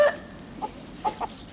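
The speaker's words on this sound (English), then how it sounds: "Come on, little chickens. Come on. It's dinner time." Chickens clucking in a short comedic scene, a few soft scattered clucks over about a second and a half, faint and fairly close, with no talking.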